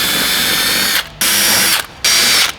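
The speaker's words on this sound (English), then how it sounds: "take our 8mm drill bit, pre-drill the 4 holes along the back" A power drill with an 8mm bit bores pilot holes for a front splitter kit on a Hyundai i30N hatchback, three close, loud bursts of high whirring separated by short pauses.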